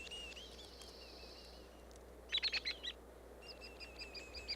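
Faint white-headed woodpecker calls in a quiet forest setting: thin high notes early on, then a quick burst of sharp, rattling chips in the middle, followed by a softer series of evenly spaced calls.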